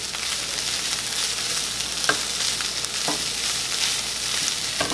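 Taco seasoning and meat sizzle steadily in a hot pan, a bright continuous frying hiss punctuated by a few soft scraping stirs, close and without talk.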